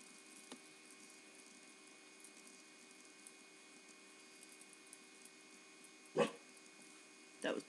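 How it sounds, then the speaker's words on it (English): In a quiet indoor room a dog gives two short, sharp barks near the end, one and then another a second later, somewhat distant against a faint steady hum. "That was the dog barking for no reason."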